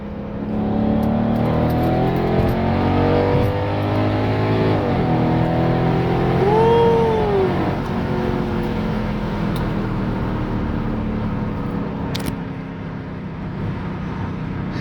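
A Mercedes-Benz SLK55 AMG accelerates at wide open throttle, its loud engine note climbing steadily through the gears with brief dips at shifts, close and dominant, with no talking.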